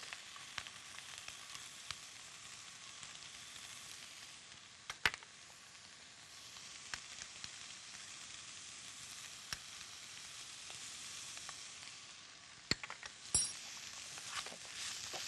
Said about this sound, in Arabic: عايزين الفراخ برضو تاخد تشويحة مع الفلفل والبصل